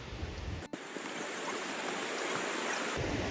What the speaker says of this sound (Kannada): ನೀರು ಹರಿಯೋ ಥರ ಸೌಂಡ್ ಕೇಳಿಸ್ತಾ ಇತ್ತೆ ಪಕ್ಕದಲ್ಲಿ ನೀರು ಹರಿತಾ ಇದೆ